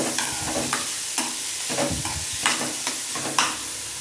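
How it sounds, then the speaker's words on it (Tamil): Shredded cabbage and carrot sauté in a hot pan with a soft sizzle, while a spatula scrapes and stirs in repeated strokes. "இந்த கோஸ் கேரட் எல்லாத்தையும் நம்ம போட்டு அது நல்லா வதக்கி அது நல்லா வதங்கி நல்லா இதுவாக வர வரைக்கும் நம்ம கொஞ்சம் வெயிட் பண்ணலாம்"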